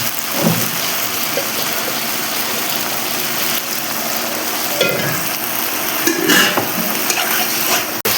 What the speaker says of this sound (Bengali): এখন একটু জল দিয়ে, হালকা জল দিয়ে একটু কষাবো।